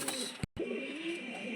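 Pigeons in a backyard loft give a soft, low cooing close by, briefly cut off by a short gap and then resuming in a steady murmur.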